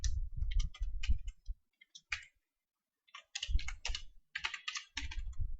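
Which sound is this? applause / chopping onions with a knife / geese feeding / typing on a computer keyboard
typing on a computer keyboard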